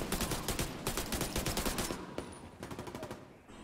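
Rapid automatic gunfire from a Division 2 firefight, dense bursts of loud shots rattling continuously for about two seconds, then thinner, scattered shots as the fighting tapers off.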